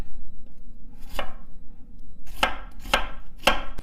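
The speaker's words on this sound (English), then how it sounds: "then we'll take half an onion and slice it" A knife slices through half an onion for Filipino pancit, making four crisp, distinct cuts against a board. The cuts come closer together near the end, in a quiet room.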